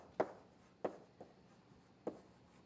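Chalk or marker taps and strokes on a lecture board, three sharp knocks spaced about a second apart with faint scratching between, close and moderately loud in a quiet room.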